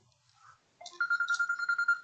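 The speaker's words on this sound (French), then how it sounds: "Ça, c'est mon téléphone qui sonne." A mobile phone rings with a repeated bright melodic ringtone pulsing in quick regular beats, fairly close and clear after a brief quiet start, with no talking over it.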